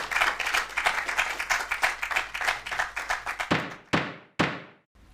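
Law-challenge contest audience gives a short round of applause for the contestants, a dense burst of clapping that thins out and ends with a few last isolated claps.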